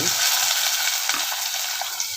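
Shallots sizzle and crackle in hot oil with fenugreek seeds, a steady close frying hiss with a few soft stirring sounds.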